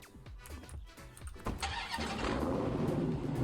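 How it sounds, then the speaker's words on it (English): A video game Hellcat V8 car engine cranks with a few quick chugs, then catches and settles into a loud, steady rumbling idle, with no talk. "that wicked Hellcat V8 startup"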